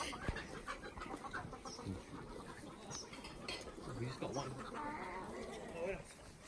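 Chickens on a farm in Fiji cluck in short, scattered calls against busy outdoor background noise, with people talking throughout.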